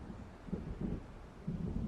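Low, rolling thunder from an approaching storm in the video game Alan Wake, a soft rumble that swells in several faint waves over steady background noise, with no voices.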